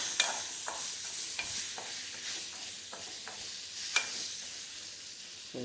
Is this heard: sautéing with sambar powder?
yes